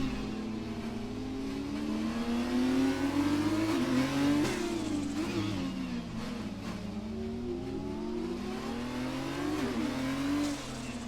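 F2 race cars lap the Monaco street circuit in a racing game. Engines howl near and loud, rising and falling through gear changes as several cars pass one after another, with an occasional brief tire squeal.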